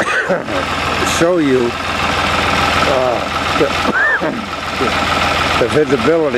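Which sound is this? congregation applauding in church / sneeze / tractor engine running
tractor engine running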